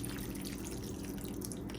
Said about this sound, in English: next we're gonna add 1 3/4 cup of water around the edges there